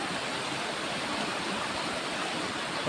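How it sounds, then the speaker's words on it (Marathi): A river swollen by heavy rain rushes past in a steady, dense broadband roar, close and unbroken, with no voices over it. "कसं पाणी चालू आहे आमच्या नदीला"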